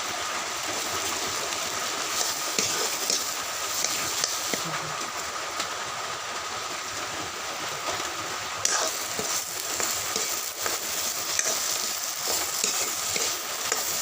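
Potatoes and jackfruit seeds frying in a hot pan, giving a steady, continuous sizzle with faint stirring scrapes throughout, close and even in level.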